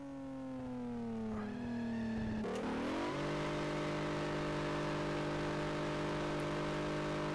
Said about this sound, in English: This car just sounds over the top.